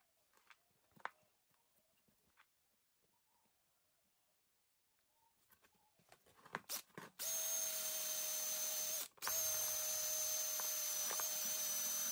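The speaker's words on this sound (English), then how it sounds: "I'm going to clean it with my nylon wheel, and it should give it a nice finish" A drill spins a nylon wheel to clean a classic Mini upper arm. A few faint clicks lead into a loud, steady whine. It breaks off briefly, then starts again at full strength.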